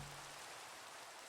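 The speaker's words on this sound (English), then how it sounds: "Oh, it's raining." Rain falls in the Minecraft video game, a steady soft hiss of drops that stays even and faint throughout with no voices.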